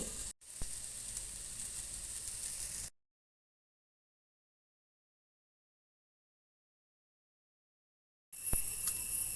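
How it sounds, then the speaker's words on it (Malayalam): Grated coconut roasting in oil for kaipakka theeyal gives a steady close sizzle for about three seconds, then the clip goes fully silent before the frying hiss returns loudly near the end. "തേങ്ങ വറവാകുമ്പോഴാണ് നമ്മൾ അരവിട്ട് കൊടുക്കേണ്ടത്"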